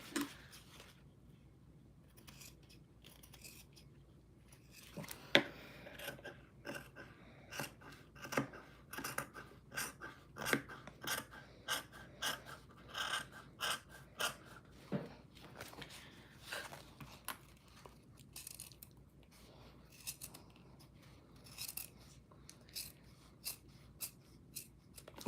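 Scissors cutting through two layers of fabric at once in a home sewing room, a steady run of close, crisp snipping clicks after a quiet start, continuing rhythmically for most of the stretch.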